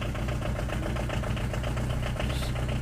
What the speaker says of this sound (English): Set it down to a nice quiet idle.